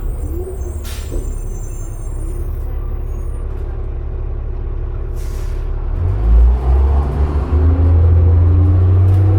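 A 2005 New Flyer D40LF transit bus with a Cummins ISL diesel, reportedly unhealthy, idles with a loud close rumble, a brief air brake hiss, then deepening engine drone as it revs near the end.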